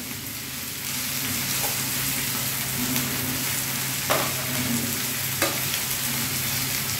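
Soya chunks frying and being stirred in a pan with chopped green chilli, a steady close sizzle with occasional scraping clinks from the spoon, no talking.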